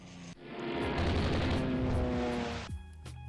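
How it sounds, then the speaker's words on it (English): Torpedo hits strike ships in a naval strategy game: after a short lead-in, a long rolling boom of explosions swells to a loud sustained rumble for about two seconds and then cuts off abruptly. "Okay, yep, more torpedo hits."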